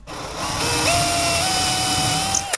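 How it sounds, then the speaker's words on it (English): A power drill with a 1/4-inch bit pre-drills through a piece of steel rail, whining steadily and loudly up close for about two seconds before cutting off abruptly, with no talk. "Pre-drill with a 1/4-inch through the first piece of rail"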